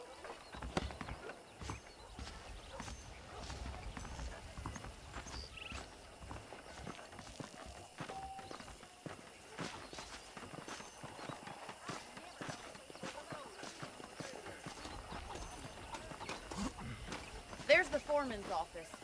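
Horse hooves clip-clop steadily at a walking pace in Red Dead Redemption, an even rhythmic clatter with occasional snorts, faint and under a man's spoken dialogue.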